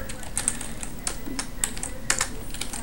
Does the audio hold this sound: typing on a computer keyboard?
yes